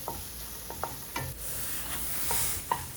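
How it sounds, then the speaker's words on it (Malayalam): Pepper powder, garam masala and fennel powder being stirred into a sizzling pan for an egg snack, a low frying hiss with a handful of soft spoon scrapes against the pan, close and quiet. "ഇതെല്ലാം കൂടി ഇട്ട് നന്നായിട്ടൊന്ന് ഇളക്കി ചേർക്കണം."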